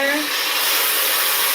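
A hair dryer blows steadily during styling, a loud continuous airy whoosh with an even motor hum throughout, nothing else audible.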